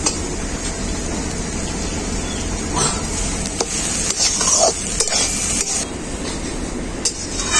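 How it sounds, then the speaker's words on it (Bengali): Cauliflower, green peas and ginger paste fry in a pan, making a close, continuous sizzle broken by scraping stirs and a few brief clatters, with no talking. "আদাটাকেও আমি খুব ভালো করে ভেজে নেব"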